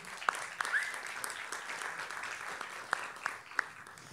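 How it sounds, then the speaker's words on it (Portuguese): A sustained patter of audience applause welcomes a priest onto the stage at a Q&A event, fairly quiet and steady, with a few sharper individual claps standing out. "Uma salva de palmas para o padre."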